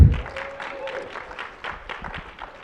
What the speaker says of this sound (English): A round of applause for Jamie, if we could.